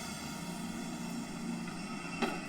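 A steady droning aircraft engine hums near a small plane as a baby patient is loaded aboard, a continuous even whine with a brief faint clunk near the end.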